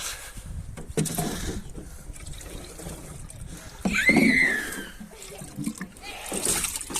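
Water is poured into a watering can holding palm fertilizer mix, a soft splashing trickle that swells midway and then eases off, fairly close, with brief speech around it.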